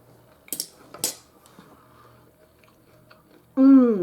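Close chewing of a mouthful of sriracha tamari beef rice bowl with rice and vegetables, two sharp wet bites early on followed by quieter mastication, and a loud burst of voice at the very end.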